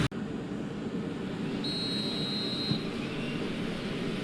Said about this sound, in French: Le coup de sifflet de l'arbitre